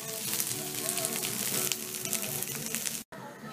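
Pepper, onion and celery fry in a pot for jambalaya, giving a steady, close sizzle with scattered crackles and faint stirring, broken by a brief silent cut just before the end.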